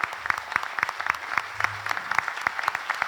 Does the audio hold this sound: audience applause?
yes